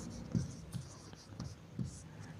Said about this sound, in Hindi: यहाँ पर नोट करके लिखेंगे